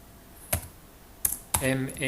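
A few sharp, separate computer keyboard keystrokes as an Excel formula is typed, followed by someone talking.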